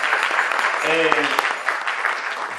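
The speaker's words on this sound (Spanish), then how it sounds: "creo que un merecido aplauso por favor para Giovanni, para Marcelo, para Susana" Audience applause at a theatre and community discussion event, a dense steady patter of clapping from a crowd throughout, with a voice briefly calling out over it.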